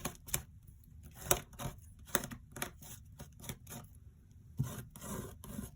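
Excess medium being scraped off a mixed media art card, a series of short, close scraping strokes in an irregular rhythm with brief quiet gaps between them.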